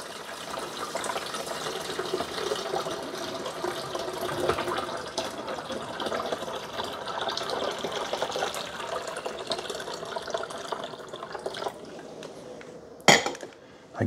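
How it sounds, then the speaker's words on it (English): Water pours from a glass carafe into a Cuisinart DGB-400 grind-and-brew coffee maker's reservoir, a steady splashing fill lasting several seconds before a sharp clatter near the end. "So let's pour the water in."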